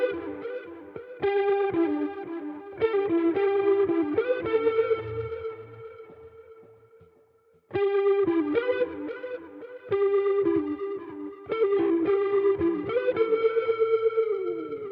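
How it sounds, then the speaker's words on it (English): Overdriven electric guitar through a Valeton GP200 plays a riff of gritty, sustained chords and notes, pausing briefly mid-way before resuming; no talking. "When I add an overdrive pedal, it could sound like this."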